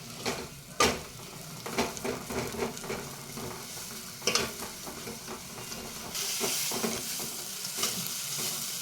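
Homemade black masala being stirred and fried in a pan for stuffed capsicum curry, with a steady close sizzle broken by repeated scraping stirs and a louder, hissier frying surge toward the end.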